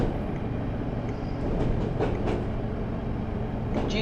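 Inside the cab of a Class 153 train running near Cardiff, a steady low rumble of the engine and rails carries on continuously, with a few faint clicks over the track and no voices.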